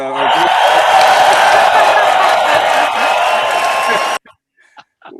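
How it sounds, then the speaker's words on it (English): A large audience at a civic session cheers, whoops and claps loudly and continuously for about four seconds. The crowd noise then cuts off abruptly, leaving near silence with a few faint sounds. "round of applause"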